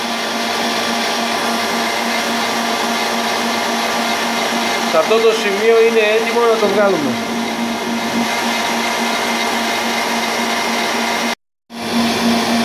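Electric kitchen mixer beating eggs and sugar for tsoureki dough, a steady close whirring drone that runs on under a speaker, with a pitch shift midway and an abrupt cut near the end.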